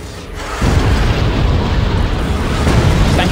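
Explosion in the sci-fi horror game Dead Space 3, a sudden loud boom that swells into a sustained rumbling roar lasting several seconds.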